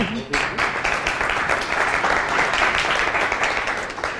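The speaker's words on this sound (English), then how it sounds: "let's welcome her with a round of applause" A university event audience applauds to welcome a speaker, a steady dense wash of many hands clapping at close range, sustained evenly throughout with faint voices beneath.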